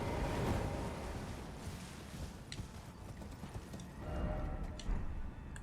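Horse hooves clip-clop steadily in the video game Elden Ring, a continuous galloping rhythm over a windy, rushing background.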